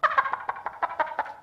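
A homemade toy imitates a hen's clucking with a string of about ten short, rhythmic squawking pulses, close and clear, with no talk over them.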